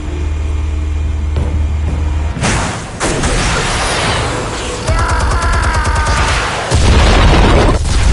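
Armed explosives detonating in the Batman Telltale video game, a loud continuous barrage of booming blasts and crackling debris that stays dense throughout, with heavier rumbling hits toward the end and no voices.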